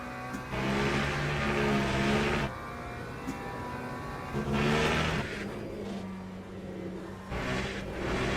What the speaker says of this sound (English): Let's accelerate away from him.